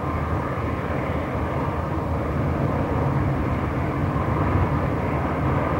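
A WVU circulation control STOL aircraft flies overhead with a steady, loud, broadband engine drone that holds evenly throughout without speech.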